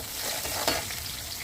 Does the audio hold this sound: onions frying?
yes